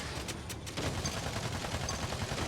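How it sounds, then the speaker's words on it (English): Gunshots ring out in Battleborn player-versus-player combat, a few sharp cracks at first, then a dense, sustained burst of rapid fire that stays loud and steady, with no one talking. "turn on her, and shoot her in the face"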